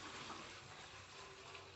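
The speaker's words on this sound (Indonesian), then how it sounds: "lalu tambahkan air" Water is poured into a used plastic bottle in a quiet, steady gush with a soft, watery hiss throughout.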